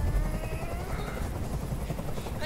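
A helicopter in the Detroit: Become Human video game gives a steady, dense rotor drone with a rumbling low end, constant and fairly loud for the whole stretch.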